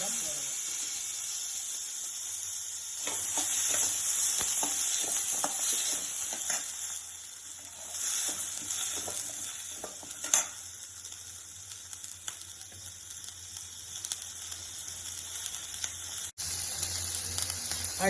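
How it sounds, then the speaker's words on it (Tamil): Small shallots sizzling in hot oil for a village-style mutton kulambu, a steady bright hiss with occasional stirring clatter and a sharp knock partway through, with a voice speaking at times. "ஃபர்ஸ்ட் எண்ணெய் ஊற்றிக்கோங்க தேவையான அளவு. அடுத்து சின்ன வெங்காயம் போட்டுக்கோங்க,"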